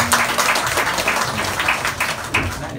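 An audience claps in a dense, steady burst of applause at a Balinese Hindu Sisya Pariksa ceremony, lasting the whole moment without a break.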